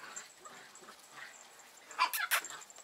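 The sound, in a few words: puppies playing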